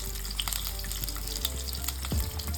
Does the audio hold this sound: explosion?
no